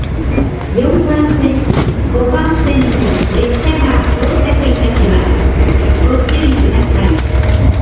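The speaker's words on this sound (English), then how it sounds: "Train is here." Loud, steady rumble of a train pulling into a station in Otaru, Japan, during a blizzard, with people talking nearby over the continuous mechanical drone.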